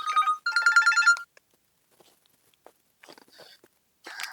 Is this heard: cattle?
no